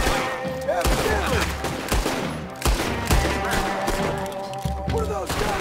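Loud, punchy gunfire from Red Dead Redemption 2 erupts in a heavy exchange of repeated shots and booming impacts with echoing tails, close and dominant throughout, with a voice briefly heard amid the shooting.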